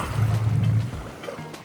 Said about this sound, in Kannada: ಬೋಟ್ ನೋಡೋ ಹೋಗ್ತಾ ಇದೆ